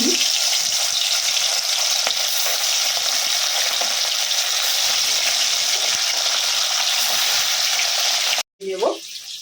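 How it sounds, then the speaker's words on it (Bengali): Parshe fish fry in hot oil, a loud steady hiss and crackle close up, broken by a brief silence and a clatter near the end. "তেল দিয়ে দিলাম একে একে দিয়ে দেব ভেজে তুলে মাছগুলো"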